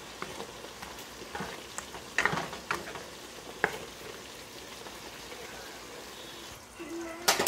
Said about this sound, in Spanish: Ahora voy a agregar un chorrito de vino blanco.